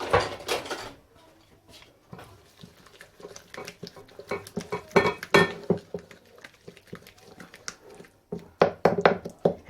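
Chicken wings being mixed with chermoula in a bowl, with irregular close wet squelches and soft knocks of hands and utensils against the bowl, coming in bursts with short pauses.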